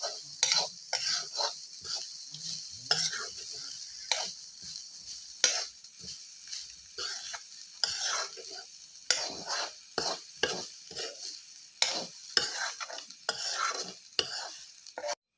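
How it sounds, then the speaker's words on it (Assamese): Grated coconut fries in a pan, stirred with a spatula in repeated scraping strokes over a soft, dry sizzle, close up with short pauses between strokes and no talk. "নাৰিকলখিনি অলপ ভাজি থকা হৈছে।"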